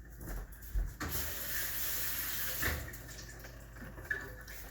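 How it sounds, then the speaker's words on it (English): Hands rinsed under a running kitchen tap while cooking chicken parmesan: a steady, close rush of water starts about a second in and continues to the end, with a few light knocks and splashes. "let me just rinse my hands"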